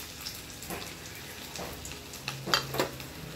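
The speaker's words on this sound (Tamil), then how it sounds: "இந்த இஞ்சி கொஞ்சம் நல்லா சிவக்க வறுக்கணுங்க" Ginger frying in a pan for ven pongal, a soft, steady close sizzle with a few light stirring clicks and crackles, getting busier near the end, with no talking.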